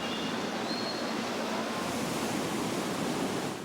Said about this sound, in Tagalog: Maya-maya, bumulwak na ang tubig sa kalsada galing sa binahang basement.